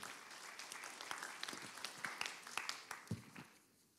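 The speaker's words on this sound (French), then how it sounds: "On peut l'applaudir." An audience at a French panel discussion applauds a guest, a moderate patter of many hands with a few sharper individual claps standing out before it fades away near the end.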